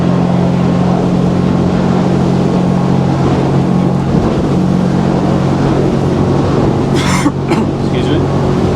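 A Yamaha powerboat runs at about 40 knots and 5,500 revs on the Solent, its outboard engine a steady loud drone mixed with rushing water and wind noise throughout, with a brief cough near the end.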